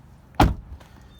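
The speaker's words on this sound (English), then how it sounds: "we'll open the back door" The back door of a 2013 Chevy Malibu LTZ with a 2.5L engine opens with a single close, solid thunk, followed by a faint click and quiet background.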